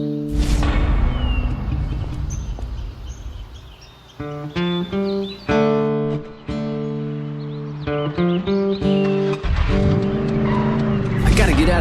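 A car drives in the video game Call of Juarez: The Cartel, its engine revving hard and shifting through gears in loud rising and falling steps with tire noise, while a voice talks over it.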